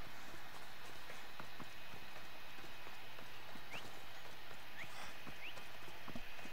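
Horse hooves clip-clop steadily as a pale horse is ridden in Assassin's Creed Odyssey, a regular trotting rhythm set against a constant outdoor ambience, with no talk.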